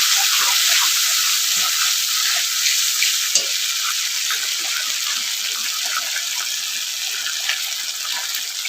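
Bay leaf, whole garam masala and ground spice paste fry in hot oil, giving a loud, dense, continuous sizzle and crackle from close by. Occasional stirring scrapes sit beneath it, and no one speaks.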